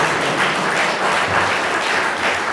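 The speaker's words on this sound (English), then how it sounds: "This man deserves applause." A room full of people applauding a former basketball player at a panel event on football and race, dense continuous clapping at a steady loud level with no talking.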